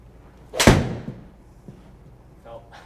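In an indoor golf studio, a golf ball is struck once, a sharp, loud, close crack followed by a short fading thud, with faint voices starting at the end.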